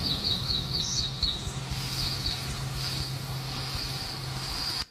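AI-generated birdsong: high, thin chirps and tweets repeat over a steady hiss and low hum, moderately faint, with no talking.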